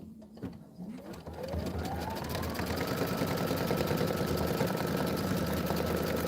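An embroidery machine runs a placement stitch, a steady, fast mechanical whir and needle chatter that ramps up after a brief start and holds close and even, with light handling noise at the beginning.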